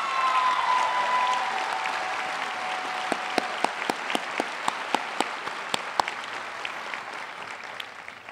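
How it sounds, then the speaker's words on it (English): A graduation ceremony crowd breaks into applause for a speaker, a broad wash of clapping that slowly thins, leaving a few distinct individual claps near the end. "let's give him another round of applause"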